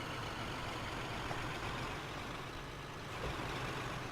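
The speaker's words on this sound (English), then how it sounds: "is that a Scania sound? Or was it a Volvo?" An Auman GTL truck engine in Euro Truck Simulator 2 drones steadily and evenly, a dense low rumble with faint hissing, no talking over it.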